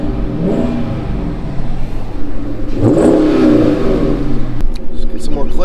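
A 2013 Dodge Charger R/T V8, an all-wheel-drive model, revs up loudly from a steady idle rumble to a deep surge mid-clip, then eases back down, heard close by through slightly opened windows.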